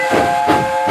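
A steam locomotive whistle blows in the Trainz simulator, a sustained bright tonal shriek with breathy steam hiss pulsing through it, loud and close, with no speech.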